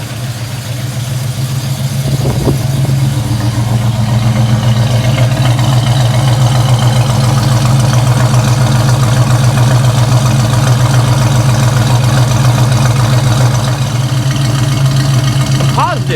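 A 1972 Pierre Cardin AMC Javelin engine runs just after a test crank, settling into a loud, steady idle that holds without a break from the first seconds to the end, with no talk over it.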